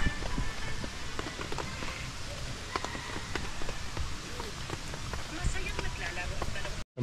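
Steady rain patters on a surface nearby at a minivan campsite in San Pablo, Laguna, with scattered heavier drips and taps throughout, continuous and moderately loud.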